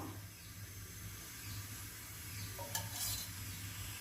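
Sesame oil sizzles and hisses softly in a pan while tempering spices, with a brief faint crackle toward the end; quiet and steady with no talking.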